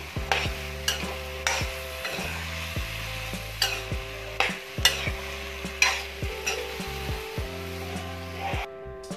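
Spices are stirred into a potato and cauliflower curry in a pan, a steady rhythm of spoon scrapes and knocks against the metal over a soft sizzle, close and moderately loud.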